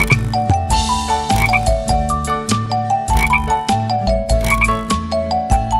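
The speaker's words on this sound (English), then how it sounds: "An old Mr. Frog" Frog croaks in a children's nursery song, repeated in a bouncy rhythm over bright musical accompaniment.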